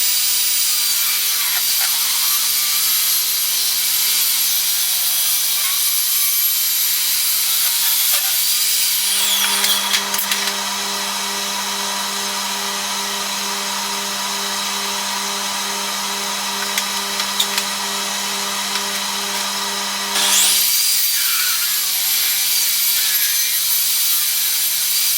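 A saw rips an oak board lengthwise in a long, steady, loud whine and grind that holds for the full cut, with a brief shift in tone partway through as the blade works through the wood.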